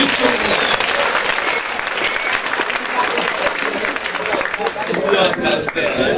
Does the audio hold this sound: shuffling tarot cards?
no